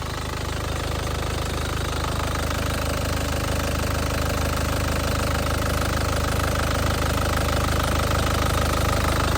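A 2007 Isuzu Panther LS Turbo diesel engine runs steadily at idle, with a constant close rattling, knocking clatter and no pauses or talk.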